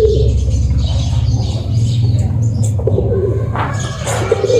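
Domestic pigeons coo steadily in low, rolling burbles, close and continuous, with faint chirps and rustling above.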